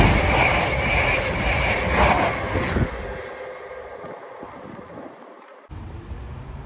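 Meridian passenger train running south on a gradient at Sawmills near Ambergate, Derbyshire: a close, loud rushing roar of passing coaches that fades, then a sharp cut to quieter rail rumble.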